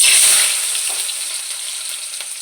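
Chopped onions hit hot mustard oil in a pan with a loud burst of sizzling that settles into a steady, bright frying hiss, with no voices.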